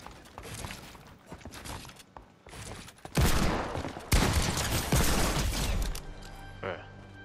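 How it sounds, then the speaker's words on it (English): Gunfire from a pump shotgun and a hand cannon in Fortnite, loud bursts of shots in a busy game mix, with a voice talking early on. "Of course I missed the pump, but then I headshot you with the hand cannon"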